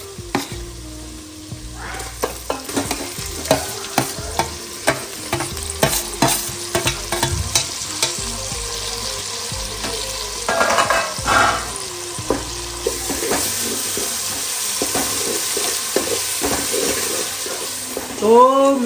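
Onion frying with garlic-chili paste in a pan for Gujarati dal baati, a steady sizzle broken by repeated loud scraping and clattering stirs, with a short watery gush later on.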